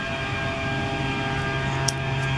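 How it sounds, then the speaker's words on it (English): A leaf blower drones steadily from somewhere behind in a summer flower garden, a constant close mechanical whine with a low engine hum underneath and no talking. "somebody decided to use their blower"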